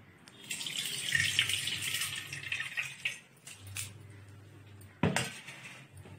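Soaked sago pearls rinsed under a running kitchen tap, a steady broad hiss of flowing water with splashing and a sharper knock near the end, no voices.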